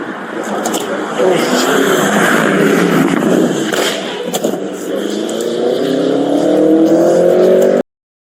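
A car approaches and accelerates, its engine note rising steadily and growing louder toward the end with a swelling whine, while people talk nearby; sharp knocks punctuate the middle before an abrupt cutoff.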